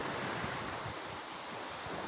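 Sea waves wash up on a windy beach, a loud, continuous broadband roar of surf with gusty wind buffeting the microphone and no voices.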